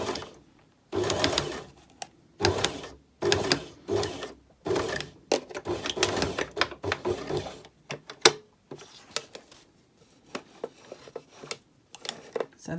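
A sewing machine back-tacks to hold fabric rouleau loops in place, running in short rattling bursts separated by pauses, close and clear with no talking.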